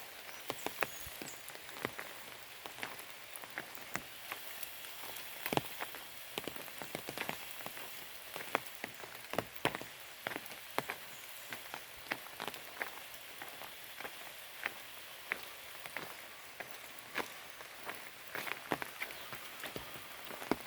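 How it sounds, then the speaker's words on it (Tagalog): Steady rain patters on a surface, with scattered sharper drips and drops landing irregularly throughout. "Pero umuulan pa rin naman ngayon."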